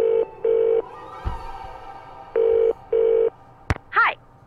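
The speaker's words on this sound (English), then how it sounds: "Okay, phone card, go." Payphone dialed with a phone card in a Nancy Drew video game, short clean touch-tone beeps in two pairs, then a click and a brief warbling tone, fairly loud and close.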